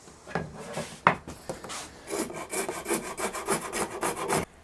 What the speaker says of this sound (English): I'm just going to file it up to this line.